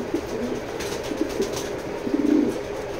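Black racer pigeons give soft, low coos close by in a quiet loft, with a short burst of cooing near the end over faint background hiss.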